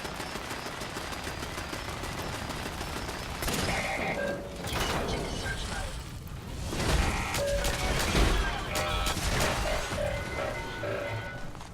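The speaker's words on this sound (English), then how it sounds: "What the hell's shooting at us now, though?" Gunfire from an unseen shooter in Fallout 4's Mechanist's Lair, sharp cracks and bursts starting a few seconds in over a constant droning background, fairly loud and irregular.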